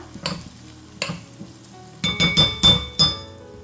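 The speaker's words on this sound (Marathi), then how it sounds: "आता ह्यामध्ये मी ही सुकट घालत आहे" Dried fish (sukat) tumbles into a pan of oil, producing sharp bursts of sizzling: two separate splashes, then four rapid loud ones, each quickly fading back to a quiet crackle; no talking.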